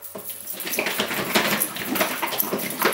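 Homemade fake blood mixture with red food colouring shaken in a container, a continuous busy sloshing and rattling that stays loud and steady throughout, with no voices.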